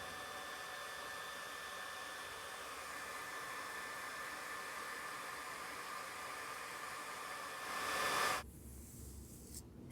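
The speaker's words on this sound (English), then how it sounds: "that is how you blow dry with a round brush" A hair dryer blows steadily while hair is styled with a round brush, a constant close airy roar that cuts off near the end, leaving quiet with a brief click.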